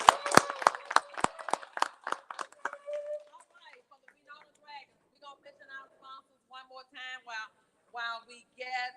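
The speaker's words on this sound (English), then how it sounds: "Y'all clap it up for Winona High School" Audience applause for Winona High School at an Alabama high school basketball media day, with sharp, close claps from a small group that quickly thin out into scattered claps while people talk.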